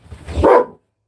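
A male dog barks once, loud and close, inside a home where a female savannah monitor lizard is kept; a short single bark with a brief low lead-in, then silence.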